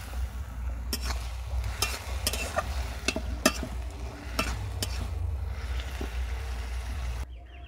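Semolina and boiled potato dough being stirred and pressed with a spatula in a wok, giving repeated sharp scraping knocks at an irregular rhythm over a low steady hum.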